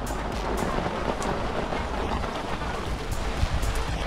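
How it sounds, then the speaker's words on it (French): Steady rain patters on a lakeside carp-fishing campsite, a dense continuous hiss with scattered drop impacts and low rumble, fairly loud throughout with no talk. "Notre campement qui commence à prendre la pluie."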